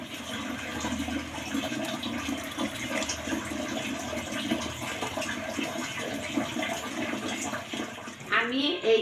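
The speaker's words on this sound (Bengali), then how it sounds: "এই যে পানিটা কিভাবে গড়ায় গড়ায় পড়া যায়" Water pours and trickles off kachu leaves being washed in a kitchen, a steady splashing flow with some clattering, and a brief louder splash at the end.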